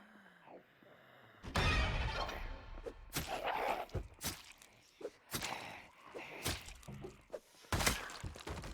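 Windows smashed in the Project Zomboid zombie survival game: a run of loud, sharp crashing impacts, several separate blows spread across the clip with short gaps between, some with a bright shattering edge.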